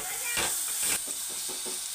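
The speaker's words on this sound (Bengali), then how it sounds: "এটা আমি ভাজা ভাজা করে ভাজতে থাকবো" Close, steady sizzle of cauliflower leaves frying in a pan, with repeated spatula stirs and scrapes pulsing through the hiss and nobody speaking.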